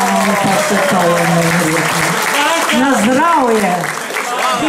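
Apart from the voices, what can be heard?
audience applause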